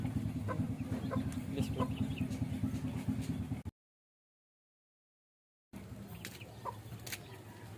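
Soft clucking and chatter from the world's smallest chicken breed, kept as a pet, heard close over a low background hum, briefly cut to silence midway before resuming, with a short spoken phrase.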